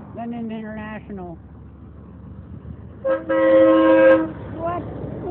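A loud multi-tone train horn fitted to an International truck blares for about a second, after someone talks excitedly nearby.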